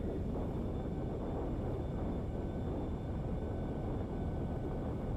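A steady, dense engine drone of a small propeller aircraft fills the air continuously, loud and close, with no voices and little change in pitch.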